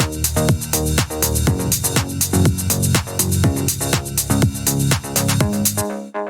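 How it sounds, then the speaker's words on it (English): A bouncy, groovy synth bass line pulses along with a full electronic groove of steady beats and chords, then cuts off abruptly. "We have a pretty groovy deep house style bass line that sounds like this."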